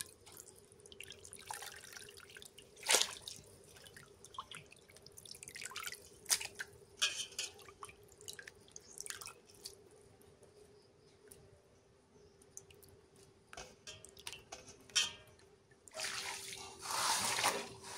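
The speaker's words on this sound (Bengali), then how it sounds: "মাংসটা ধুইয়া নেই" Chicken pieces being washed in water in a village kitchen, with scattered drips, splashes and trickles over a faint steady hum, ending in a louder burst of pouring or sloshing water.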